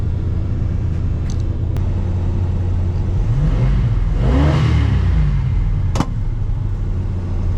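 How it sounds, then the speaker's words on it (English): A Plymouth Road Runner, back on the road after 25 years, revs its engine once, climbing to a roaring peak over a steady idle rumble and then settling back, with a couple of sharp clicks around it. "Rev the motor up a little bit."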